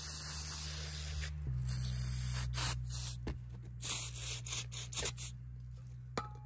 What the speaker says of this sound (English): I'm gonna go ahead and spray it with some brake clean.